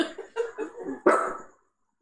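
A small female dog barks in a short burst of several sharp, close yips and barks, ending abruptly into silence.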